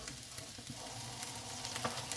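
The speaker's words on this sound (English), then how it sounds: "stir it once it's all mixed up" Mixed bean chilli sizzling and frying in a pan as it gets stirred, a steady close bubbling hiss broken by small scraping clicks, no voices.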